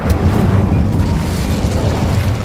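An Incendio fire spell from Hogwarts Legacy erupts as a loud, roaring burst of flame that rushes and rumbles steadily for a couple of seconds. No voices.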